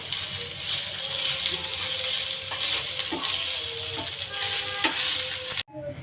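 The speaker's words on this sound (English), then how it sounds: "Stir well" Poha being stirred in a pan, with a steady soft scraping and sizzling texture running throughout, a few faint tonal clinks over it, and the sound cutting off abruptly near the end.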